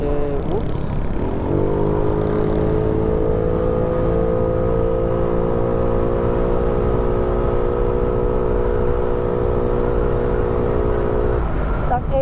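A Mio scooter with a stock engine and a 28mm roundslide carburetor revs up and holds a loud, sustained drone close by, then cuts off near the end.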